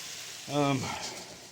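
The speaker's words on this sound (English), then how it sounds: "As you can see, it's raining real good." Rain falls steadily outside with a faint, even hiss, and a voice cuts in briefly.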